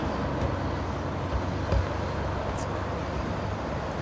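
Road traffic passes steadily on a nearby highway during an outdoor community gathering, a continuous low rumble and hiss of vehicles with a few brief louder swells and no speech.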